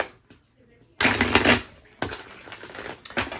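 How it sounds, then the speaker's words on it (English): Tarot cards shuffled by hand in two quick riffling bursts, crisp papery flutters that start abruptly and fade, close and fairly loud. "I just have to shuffle these cards a little bit more, wash them a little bit."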